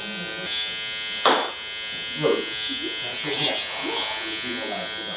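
An electric hair clipper buzzes steadily as it trims a man's medium-length hair over a comb, a constant close whine broken by brief scraping pulses, with a person talking over it.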